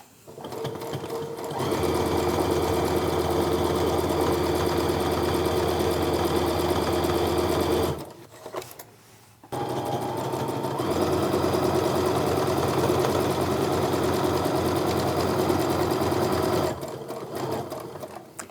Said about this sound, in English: I'm just going to go ahead and sew with the pin side up.